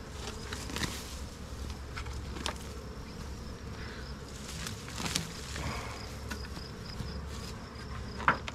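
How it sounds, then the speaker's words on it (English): Dense, steady buzzing of many honey bees close by at an opened hive, a continuous insect drone with occasional louder passes and light tapping, no voices. "No, we still got bees."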